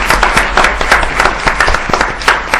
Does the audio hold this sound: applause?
yes